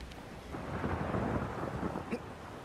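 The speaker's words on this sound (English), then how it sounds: "I like the rain build up." Rain and rolling thunder in the Shadow of the Colossus video game, a steady low rumble over a wash of falling rain, building slightly and continuing throughout, fairly faint, with no talking.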